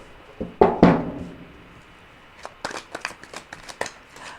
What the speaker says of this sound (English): do a bit more shuffling, and then we're just going to open the cards